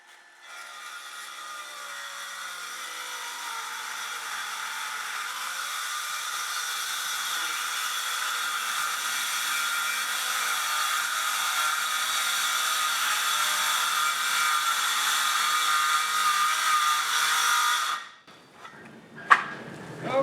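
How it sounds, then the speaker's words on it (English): A power saw runs continuously through wooden boat hull planking, a loud, even whining grind that holds for about eighteen seconds and then cuts off, followed by a few scattered clunks. "So I'm going to make a couple of quick cuts here and see how it goes."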